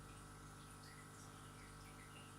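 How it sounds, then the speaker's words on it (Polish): Soft, continuous splashing of a small waterfall in a 112-litre aquarium, steady and quiet over a faint background hum. "To plumka sobie wodospad."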